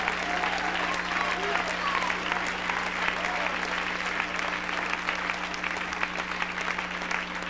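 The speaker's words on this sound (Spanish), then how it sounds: "Dale un aplauso al Señor." A church congregation claps during a Spanish-language sermon, a steady wash of many hands at moderate level over a constant low hum, with no talk on top.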